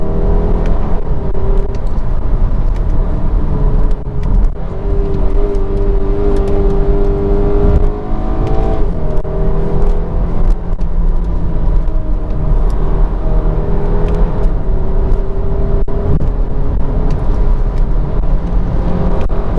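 A 2019 Audi Q3 SUV drives and accelerates, its engine note rising and shifting through gears under constant loud road and wind noise, heard from inside the cabin with no talking.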